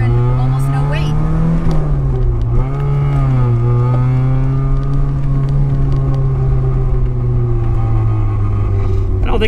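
A 1984 Volkswagen Rabbit GTI with a loud, likely non-stock muffler drones steadily while driving, its engine and exhaust rising and dipping with throttle changes, close and continuous, with voices talking over it.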